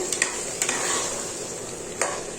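A mixed vegetable palya with sambar powder simmering in a pan, a soft continuous bubbling hiss with a few sharp clinks of a spoon stirring against the pan.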